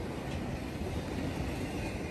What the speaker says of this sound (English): M is a daily intermodal and containers with some trailers on the NS Chicago line